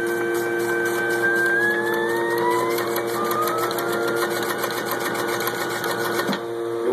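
A high speed batch card feeder runs steadily with its pump on, a loud continuous mechanical whir with a rising tonal whine, ending in a short clunk near the finish.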